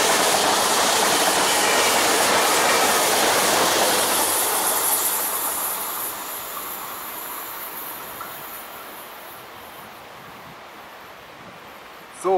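An ICE high-speed train passes through Kitzingen station, a loud broadband rush and rail hiss that peaks early, then fades steadily as the train recedes, with faint wheel squeal near the end.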